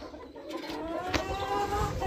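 Hens clucking in a backyard poultry yard, several soft, overlapping clucks and murmurs at moderate distance with a faint background hum.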